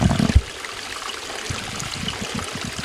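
Water of a California creek runs steadily through a wooded, shady spot, a soft continuous babble with a brief louder splash at the start, heard alone at moderate distance.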